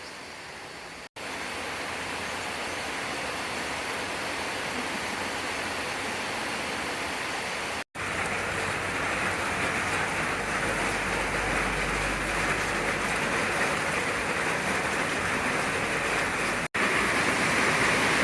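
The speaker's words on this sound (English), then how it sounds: "still raining." Steady rain falls outdoors among young durian trees as a continuous broadband hiss that holds unchanged for the whole stretch, broken only by a few brief gaps and with no voices.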